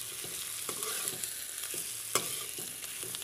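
A spoon stirs a capsicum and potato curry sizzling in a pan, with irregular scraping clicks over a steady frying hiss at close range and no talk.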